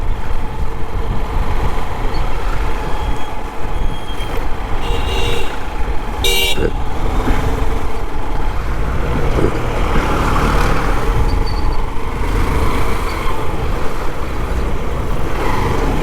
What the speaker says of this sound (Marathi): बेकार ट्रॅफिक आहे, बेकार अलिबागला.